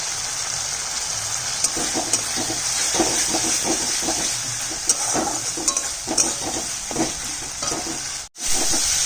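Tomatoes frying in a pan of oil while being stirred, a steady close sizzle with repeated scraping stir strokes throughout, alone with no talk.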